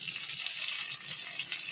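Curry leaves hit hot coconut oil with mustard seeds, giving a continuous bright sizzling hiss that stays steady and fairly faint throughout, with no talking.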